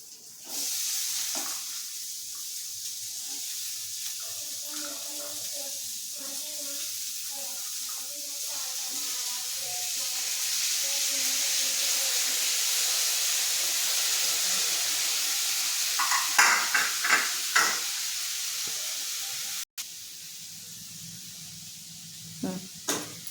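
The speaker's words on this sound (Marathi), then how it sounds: "शेंगा टाकूया." Beans dropped into a hot pan set off a sustained hiss of sizzling that swells and holds, with a few stirring clatters and knocks near the end.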